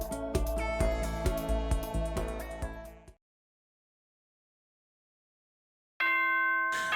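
A school announcement chime from the Danganronpa: Trigger Happy Havoc video game rings out as a bright, loud multi-tone melody, then cuts off into three seconds of silence before a sustained tone returns abruptly.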